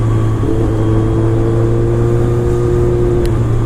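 A 2007 BMW K1200R motorcycle engine droning steadily at speed during a rainy test ride, loud and close with a constant low hum and whine, as a rider talks briefly over it.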